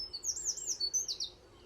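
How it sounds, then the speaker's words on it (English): Magpies in trees over a meadow give a run of high, wavering chirps and calls, clear and moderately close above a quiet outdoor background, with no one talking. "Can hear the magpies up in the trees there."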